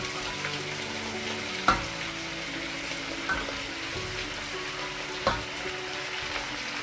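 Cabbage stir-fries with beef in a hot pan, a continuous close sizzle punctuated by a few sharp utensil clanks, with no voices.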